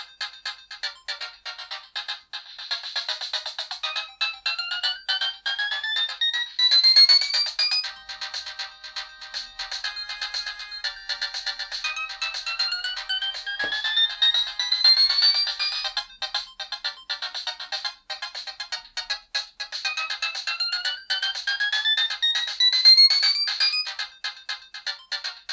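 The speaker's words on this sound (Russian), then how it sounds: "Здесь, кстати, имеется поддержка MMF, мелодии в этом формате звучат более живо и имеют поддержку голоса." Samsung SGH-X100 mobile phone from 2003 plays MMF-format polyphonic ringtone melodies, bright synthesized tunes with rising note runs repeating in phrases, loud and clear with no talking.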